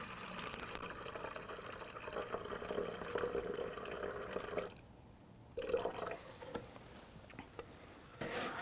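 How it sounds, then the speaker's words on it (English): Paint activator poured into a mixing cup for a paint mix, a soft steady liquid trickle that pauses briefly and resumes, close by in a quiet room. "So now I'm going to add the activator up to that two."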